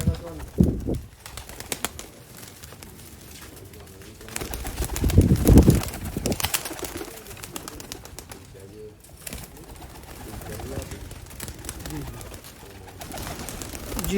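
Sialkoti pearl breeder pigeons coo in low, soft, repeated calls close by, mixed with rustling and occasional wing flaps. A voice speaks at times over them.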